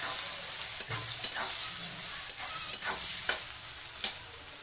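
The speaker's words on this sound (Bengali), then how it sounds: "এবার পেঁয়াজগুলো দিয়ে দিচ্ছি আস্তে আস্তে এবার ভাজতে থাকি" Onions frying in a pan, a steady bright sizzle throughout with occasional soft stirring scrapes and taps, close and fairly loud with no talking.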